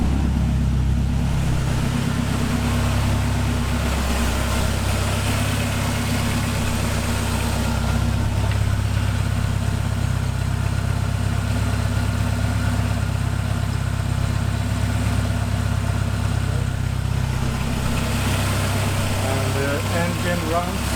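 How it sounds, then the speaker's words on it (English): A Saab 9-5 Aero sits idling with a steady, smooth low hum and even throb that holds constant throughout, loud and close. "Engine runs smooth."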